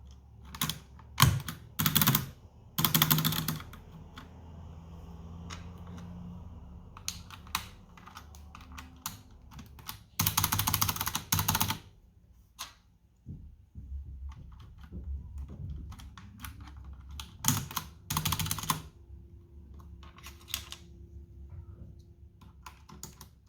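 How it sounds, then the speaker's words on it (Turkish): Cleaned keycaps snapped back one by one onto a Logitech G710+ gaming keyboard, giving sharp plastic clicks and taps in irregular bursts, with louder clusters of presses between quieter handling noise. "Evet artık temizlediğim tuşları takmaya başlayacağım"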